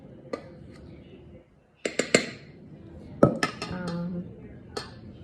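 Flour, cornstarch and baking soda being mixed in a bowl, a few sharp utensil clinks and scrapes against the bowl separated by pauses, with no talking.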